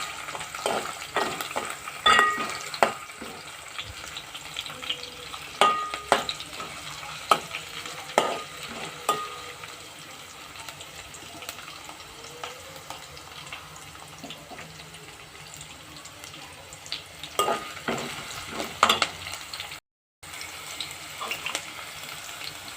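Green chillies and onion fry in a hot pan with a steady crackling sizzle, interrupted by frequent scraping and clacking strokes of a stirring spoon, close up, with a brief dropout near the end.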